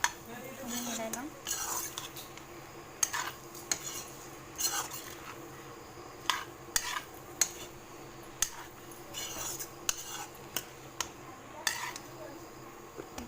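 Pumpkin and fish fry being stirred in a pan, a spoon clanking and scraping against the metal in irregular bursts of sharp knocks over a faint background hum.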